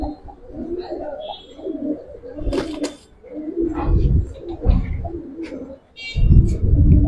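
Giribaz pigeons, a male and female pair, coo repeatedly in low throaty bursts at close range, with brief chirps and rustling between calls and no talk.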